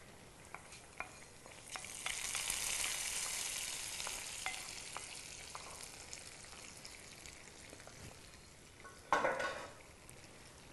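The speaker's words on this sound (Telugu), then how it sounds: "ఇంకా స్టవ్ ఆపేసి ఈ పోపుని ఉడుకుతున్న కర్రీలో వేసుకోవాలి" A tempering of curry leaves and spices is poured into simmering bottle gourd dal curry, giving a loud burst of sizzling with stirring and scattered crackles that fade away, then a second short flare of sizzle near the end.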